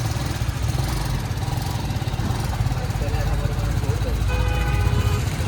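A motorcycle engine runs steadily at close range, a continuous mid-pitched hum with a rough, throbbing texture, while people talk over it throughout.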